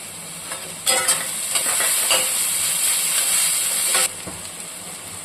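Onions fry with two spoons of ginger garlic paste in a pan for chicken curry with almonds and cashews. A loud, close hissing sizzle swells as the paste goes in, with scraping stirs and no voices.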